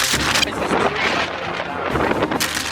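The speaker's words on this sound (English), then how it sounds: "Skylights flapping in the wind up there." Strong storm winds roar steadily outdoors in a yard with downed fences and broken trees, buffeting close to the microphone in loud continuous gusts; any flapping of the roof skylights is lost within the dense wind noise.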